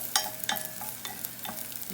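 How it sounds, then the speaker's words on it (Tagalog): Garlic and onion sauté in a pan for a squash and ground pork dish. A spatula gives a few quick, close scraping strokes over a soft, continuous sizzle. "Igigisa ko muna."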